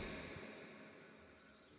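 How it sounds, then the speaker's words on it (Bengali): Crickets chirp at dusk in a steady, faint, high trill that runs on without pause, with no other sounds around it. "ঝিঝি পোকার ডাকে সন্ধ্যার নিস্তব্ধতা ভাঙছিল।"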